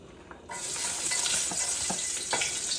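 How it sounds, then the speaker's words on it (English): Garlic cloves frying in hot oil for Jamaican smothered oxtail, a steady close sizzle that starts abruptly and holds, with a few stirring scrapes and clicks along the way and no talking. "Now to cook the oxtail, I always fry out some garlic in the oil."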